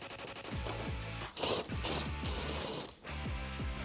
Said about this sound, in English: you can take your impact wrench or your ratchet and completely tighten it down